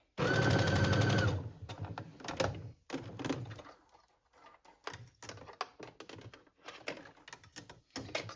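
A sewing machine basting a seam on a cardigan opens with a steady whirring burst of about a second, followed by scattered clicks, taps and fabric handling noises, close up with no talk.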